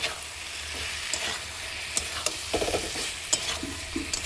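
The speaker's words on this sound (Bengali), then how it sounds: "তো একটু ভালো করে কষিয়ে নিচ্ছি এটা।" Cauliflower florets and potato pieces being sautéed together in a pan for a vegetarian curry, with a steady sizzle and repeated scraping stirs of a spatula, close and clear, no voices.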